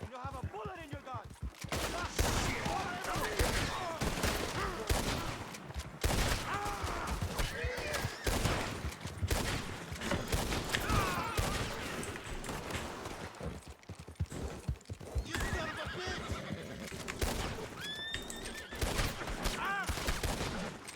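Gunfire in the Western video game Red Dead Redemption 2: repeated sharp shots and volleys crackle throughout, mixed with horse hoofbeats and in-game voices over a busy, loud scene.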